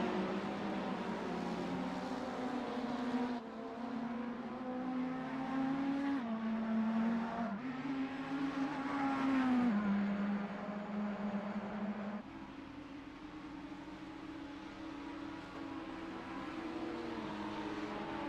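World Challenge race cars at the Road Atlanta circuit near turn 1: several engines drone loudly and continuously, their pitch rising and dropping as the cars shift gears and pass by in close succession.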